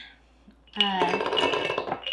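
Brazil nuts clatter into a food processor bowl, a bright burst of small hard pieces clinking against the container and settling over about a second and a half.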